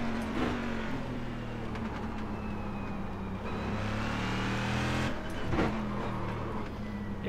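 Corvette race car in iRacing at Homestead roval, engine droning and rising and falling through downshifts, with chattering wheel hop bursts and other cars passing nearby; no talk.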